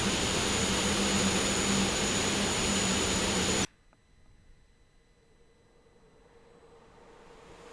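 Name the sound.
aircraft engine in X-Plane 11 flight simulator video game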